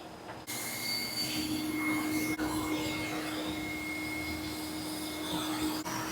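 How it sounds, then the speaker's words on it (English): A shop vac sucks fluids out of a CNC machine, switching on after a brief pause and then roaring loud and steady with a whining tone, no voices over it. "I am going to evacuate it out with the shop vac"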